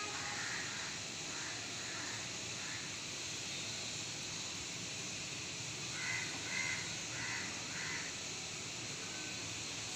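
A crow caws in short repeated bursts, faint and distant against a steady background hiss, with a second run of caws later.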